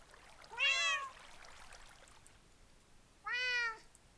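A video game cat gives two clear, bright meows about three seconds apart, each rising and falling in pitch over a faint, quiet background.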